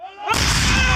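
Artillery gun firing in a military setting: a single loud, close boom that erupts suddenly and rolls on as a broad blast.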